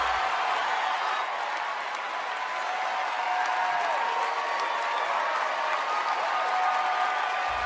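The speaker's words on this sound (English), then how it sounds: "Standing ovation." A large theatre audience at the Tony Awards gives a standing ovation, sustained dense applause and cheering filling the hall at a steady loud level from start to finish.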